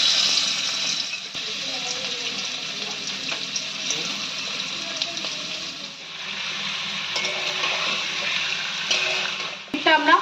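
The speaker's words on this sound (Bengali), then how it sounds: "এবার পনিরগুলো আমি একে একে তেলেতে ছেড়ে দেবো এবং হালকা করে ফ্রাই করে নেব।" Paneer pieces shallow-fry in a little hot oil in a wok, giving a continuous bright sizzle with soft bubbling, near and fairly loud, with a short clatter near the end.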